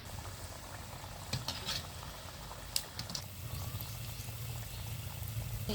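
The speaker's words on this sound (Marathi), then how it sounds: "अशा व्यवस्थित तळून घ्यायच्या" Jaggery kapnya, crisp Marathi sweet snacks, fry in hot oil with a steady soft bubbling sizzle and a few light clinks of utensils, close and fairly quiet.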